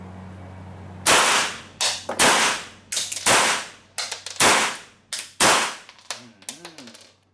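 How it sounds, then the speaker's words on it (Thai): A silver Blow F92 Beretta blank pistol being test fired, a series of about ten sharp, loud, close cracks spaced irregularly, each with a brief decaying tail, with no talking between shots. "เรามาทดลองยิงกันเลย ทดลองยิงเลยนะครับ"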